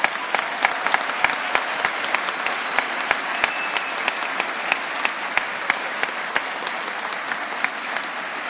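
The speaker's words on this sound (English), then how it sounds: "Let them hear your applause." A crowd at a district evening of excellence applauds for teachers, steady clapping filling the room with sharper individual claps standing out, sustained and fairly loud throughout.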